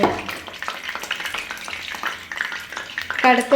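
Chilli chicken pieces sizzle and crackle in hot oil in a home kitchen, a steady frying hiss with stirring clatter and a sharper burst near the end.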